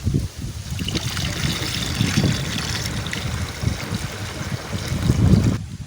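Liquid fertilizer mix with Trichoderma is poured into a sprayer tank, giving a steady, close, rushing splash of liquid that runs throughout with no talk.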